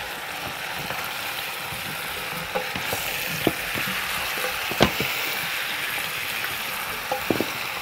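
Chunks of meat and potatoes fry in a pan with a steady, close sizzle, punctuated by occasional scraping knocks as they are stirred and turned; no voices.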